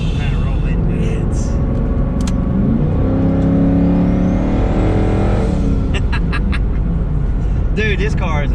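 A twin-turbo Coyote-engined S550 Mustang accelerates hard at full throttle, its loud, steady engine roar climbing in pitch over several seconds from inside the car, with voices talking over it.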